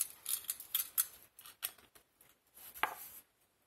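A utility knife slices through card with a series of short crisp scratchy strokes, close and quiet, in an otherwise silent room.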